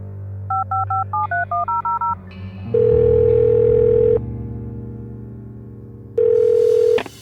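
A telephone in the Art of Murder video game: a quick run of touch-tone dialing beeps, then a steady loud dial or ringback tone that stops, a pause, and the tone sounding again.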